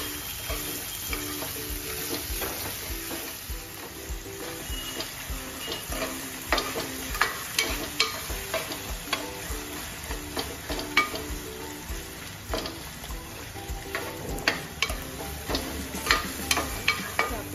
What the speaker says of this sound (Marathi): आपण त्यामध्ये चिरलेला कांदा टाकणार आहोत। आणि चांगल्या प्रकारे त्याला गोल्डन ब्राऊन करणार आहोत।